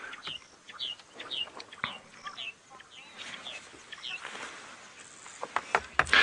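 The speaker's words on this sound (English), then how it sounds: "that is a red-headed Quelea" Red-headed quelea calling during a sunrise safari drive, a series of short, high chirps repeating through the clip against faint background noise, with a louder burst near the end.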